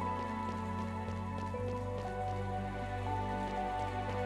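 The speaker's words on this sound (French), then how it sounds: "La pluie constante et l'ambiance sombre est plombée" Steady rain falls continuously in the video game Chained Echoes, a soft even patter that runs the whole time beneath sustained, moody background music.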